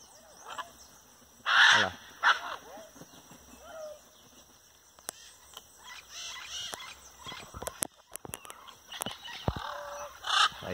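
Wild macaws calling at their evening roost in a buriti palm grove in Mato Grosso: loud, harsh squawks come in a few separate bursts over a quieter, steady background of distant bird calls.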